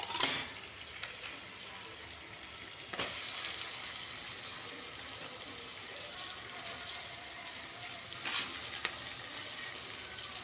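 Dried cucumber curry with onion and tomato fries in a pan, a steady close hiss of sizzling oil with a few louder stirring bursts, and little talk.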